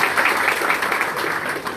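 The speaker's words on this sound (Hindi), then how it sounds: "सबके लिए इकट्ठी तालियां हो जाएं" Applause from the audience at a Pakistani pigeon-fancier gathering, a dense, steady wash of many hands clapping together and holding at an even level throughout.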